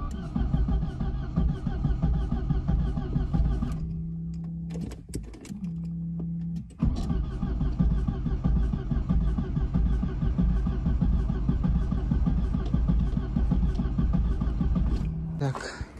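A car engine cranked and started after its spark plugs and fuse were replaced, idling with a loud, steady low rumble that cuts out and restarts with brief stumbles, alone without speech.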